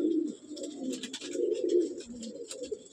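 Breeding pigeons coo in a loft in throaty, rolling phrases up close, while light scratching and flutters rise and fall behind them.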